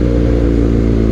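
A BMW R nineT motorcycle fitted with a new Villan exhaust rumbles loud and close, a deep steady engine drone on a Jakarta street.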